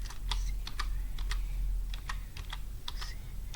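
Fingers typing HTML code on a computer keyboard, quick irregular bursts of close key clicks over a low steady hum, no voices.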